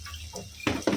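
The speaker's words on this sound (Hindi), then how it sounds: "अभी हाथ धो लेते हैं।" Hands washed under a running tap in a home kitchen: a steady quiet stream followed by two louder splashes as the hands move under the water, with no talk.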